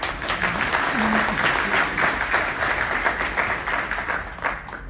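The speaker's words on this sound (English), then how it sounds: "So round of applause for the PALs and PALs membership." An audience at a police community meeting with the Pakistani community applauds steadily, dense clapping from many hands that runs the full length without a break.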